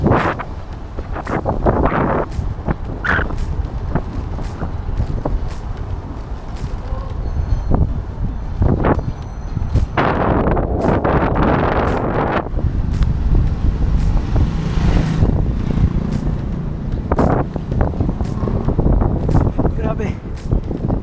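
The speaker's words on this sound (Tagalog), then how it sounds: "Grabe. Ang lakas ng hangin dito." Strong wind buffets the microphone of a rider cycling on a gravel path under an expressway, heard as loud, gusty rumbling roars that swell and fade throughout.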